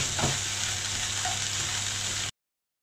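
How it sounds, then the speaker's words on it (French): Spiced minced meat and vegetables with coriander being stirred in a frying pan: a close, steady sizzle with a brief scrape of the spoon near the start. "je remue, je mélange pour imprégner les épices en légumes également"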